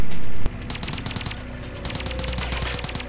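Gunfire in the Delta Force Black Hawk Down PC video game: a sharp crack opens into a steady rattle of rapid automatic shots, fairly dull and muffled, continuing throughout.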